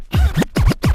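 A DJ tap-pauses a vinyl record with a finger, giving three short, loud scratchy bursts with sliding pitch, separated by brief gaps of silence where the record is stopped.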